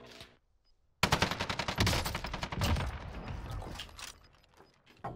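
Rapid automatic gunfire rattles close and loud in Warzone on the Fortune's Keep map, a sustained burst of evenly spaced shots after a brief quiet opening, then tapering into scattered effects.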